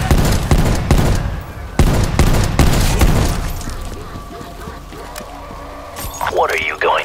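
Hand cannon fire in Call of Duty: Black Ops Cold War, a handful of loud, sharp single shots spaced apart in the first few seconds, then fading into quieter game ambience and effects.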